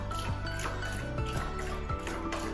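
A dog on a road trip laps water steadily, with quick wet slurps repeating close by over a low background hum.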